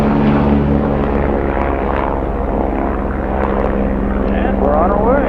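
A tour helicopter flies over the Grand Canyon, its engine and rotor making a loud, continuous droning whir heard from inside the cabin, with a pilot's voice talking over it.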